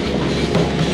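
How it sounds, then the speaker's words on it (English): Rumbling rail noise from an old CWR number 53 diesel locomotive at a steam festival, a steady dense roar with clickety-clack of wheels on old track, loud and close throughout. "Look at that old locomotive there"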